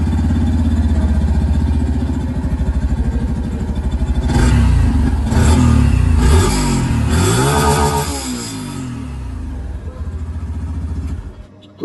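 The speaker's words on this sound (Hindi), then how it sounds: "इन दोनों ही बाइक की जो एक्चुअल में एग्जॉस्ट साउंड है वो भी मैं आप लोगों को सुना दूं" A motorcycle engine idling with a throbbing exhaust, then revved hard several times in loud bursts before settling back to a steady idle.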